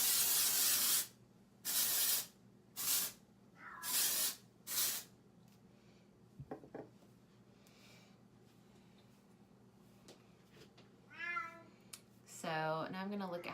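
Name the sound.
dry texturizing hair spray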